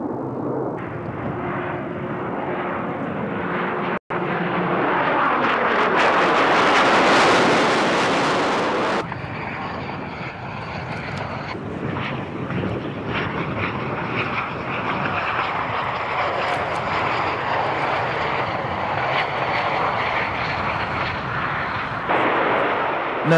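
Twin Rolls-Royce Adour turbofan jet roars past at an airshow, a loud, broad rushing thunder that swells, peaks sharply around the flyby, then settles into a sustained distant rumble.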